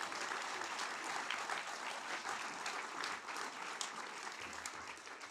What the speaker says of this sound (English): let's take that opportunity to applaud everyone who's made it so far.